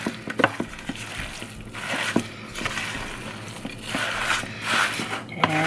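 Meatloaf mixture with quinoa being stirred and mixed with a spatula, giving soft wet squishing and scraping sounds with occasional sharper clicks against the bowl, fairly close and steady.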